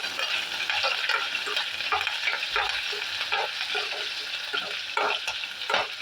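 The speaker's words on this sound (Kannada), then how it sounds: "ಸ್ವಲ್ಪ ಇದನ್ನು ನಾವು ಚೆನ್ನಾಗಿ ಇದನ್ನು ಫ್ರೈ ಮಾಡ್ಕೊಳ್ಳೋಣ" Greens frying in a pan for a traditional sambar, stirred steadily; a loud continuous sizzle with repeated scraping strokes of a spoon against the pan.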